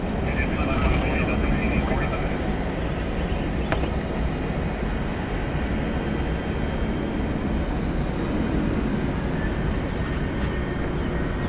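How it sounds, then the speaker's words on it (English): A 17-year-old Southwest Airlines Boeing 737-7 roars on takeoff at Atlanta Hartsfield-Jackson, a steady, loud, broadband engine rumble that holds without a break, with faint radio chatter at the edges. "Southwest Airlines flight 1751 going to Little Rock. It's a Boeing 737-7, 17 years old."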